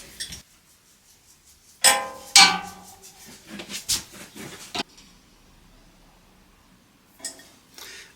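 Old bolts being tightened on a wooden table, heard as a few sharp metallic clinks and tool knocks separated by quiet pauses, fairly close and without talk.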